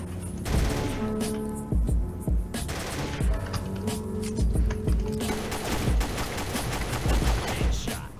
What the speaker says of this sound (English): Hit him with a 3-round burst